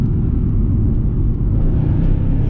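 A Mercedes CLS55 AMG with a V8 engine driving, a loud, steady low rumble and road roar heard from inside the cabin, with no speech.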